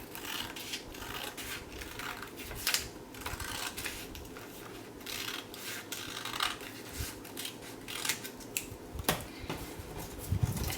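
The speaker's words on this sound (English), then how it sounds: "fold down the center, cut along that line" Scissors cutting folded paper for an Easter basket craft, repeated crisp snips and rustling paper handling at close range, fairly quiet with no speech.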